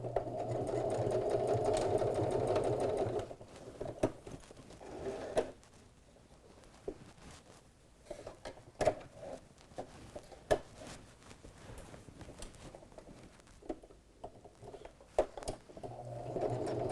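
A sewing machine stitches forwards and backwards on a fabric grocery bag dispenser, a steady whirring run at first, then short bursts and clicks as it reverses to secure the seam.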